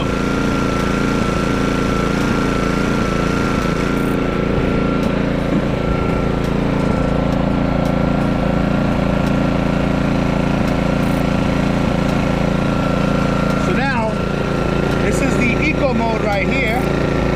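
An AIVOLT 4300W gas-powered portable inverter generator running warm, with a loud continuous engine drone and mechanical rattle, steady throughout and close by.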